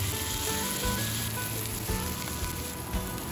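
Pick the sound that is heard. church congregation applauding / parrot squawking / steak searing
steak searing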